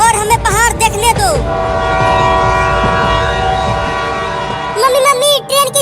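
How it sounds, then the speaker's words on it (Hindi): A cartoon train blows a long, loud whistle that holds for several seconds over the rumble of the moving train, with children's voices chattering just before and after it. "मम्मी ट्रेन की सीटी की आवाज आ रही है, लगता है अब ट्रेन आने ही वाला है।"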